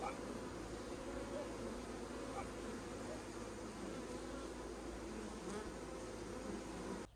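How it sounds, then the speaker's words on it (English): Many bees buzz steadily and close by around garden hives, a dense, continuous drone with individual insects rising and fading in the swarm. "I love just coming to sit out here in my garden and watch the bees."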